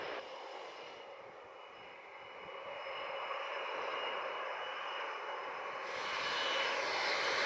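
An airliner landing at Montego Bay airport in Jamaica: a broad, steady jet roar heard from a distance that slowly swells louder over several seconds, with no voices.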